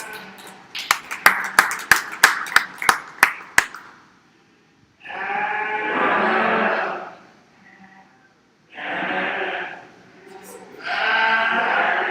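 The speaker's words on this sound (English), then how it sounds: "let's go all those series nice round of applause" A short burst of scattered clapping rings out at a county fair goat and sheep show, followed by loud, repeated bleats from sheep or goats close by in the show ring.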